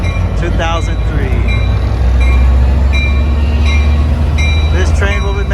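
An Amtrak San Joaquin passenger train led by an F59PHI locomotive pulls into Bakersfield station, its steady heavy rumble and rolling wheels close and loud, with brief squeals and clicks from the rails and faint talk underneath.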